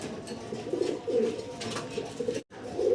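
Pigeons at a pigeon seller's loft coo close by in repeated soft throaty phrases, one after another, with a brief gap near the end and no talk.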